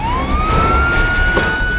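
A police car siren wails loudly and close, its tone sweeping upward then holding a steady high pitch over a low road rumble, with no talking.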